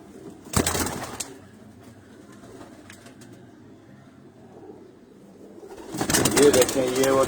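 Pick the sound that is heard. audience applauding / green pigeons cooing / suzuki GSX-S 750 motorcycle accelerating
green pigeons cooing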